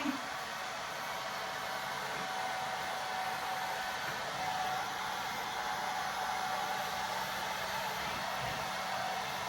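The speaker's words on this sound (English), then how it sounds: "Have not used a blow dryer, like I said, in years." A blow dryer runs steadily with a constant airy roar, close and unbroken throughout.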